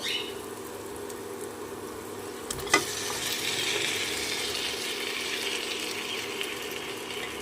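Fried pieces of aar fish land in a sizzling, oil-rich spice masala. A sharp clatter as they drop in is followed by a louder, brighter sizzle that keeps going steadily, with no voices.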